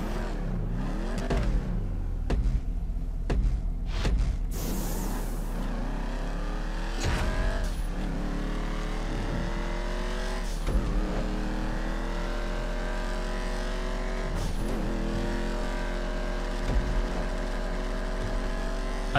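A sports car engine in GTA V revs and climbs through gears in rising, falling sweeps, with brief shifts and a burst of tire noise, loud and continuous.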